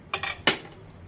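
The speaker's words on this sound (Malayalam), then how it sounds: "ഇതിനെ കുനുകുനാന്ന് അരിഞ്ഞെടുക്കണം. ചെറിയ ചെറിയ ചെറിയ പീസായിട്ട് അരിഞ്ഞെടുക്കണം" A knife chops ripe, peeled pineapple into small pieces for pachadi, landing two quick, sharp, close strikes on a board. No one speaks.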